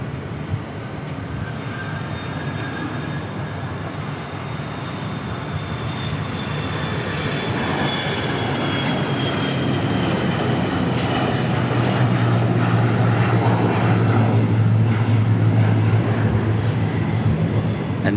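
An airliner in retro livery at Dallas Love Field roars steadily with a broad engine rumble and faint whine, building slowly louder as it passes.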